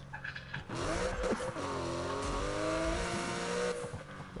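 A racing car drifts in Need for Speed, its engine revving hard with rising and falling pitch sweeps and a brief tire squeal, loud and close from start to finish.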